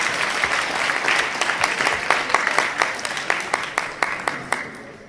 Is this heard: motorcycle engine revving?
no